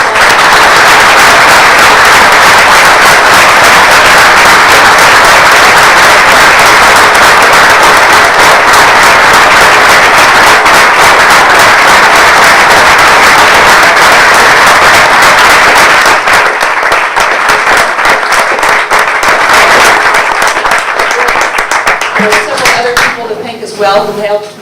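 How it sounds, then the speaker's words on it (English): Long, dense applause from an audience at a panel discussion event, loud and sustained for most of the stretch before thinning out and fading near the end. "let's give a round of applause for our panelists"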